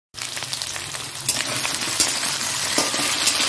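Food sizzles steadily in a kadai while a Bengali mustard fish jhal is being cooked, a continuous close frying hiss with faint clinks of a utensil and no talking.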